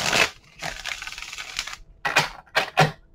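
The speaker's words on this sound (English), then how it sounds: "I have to shuffle like this because my deck is getting bent." A bent tarot card deck being shuffled by hand, close crisp riffling bursts in several short clusters with brief pauses between them, no talk over it.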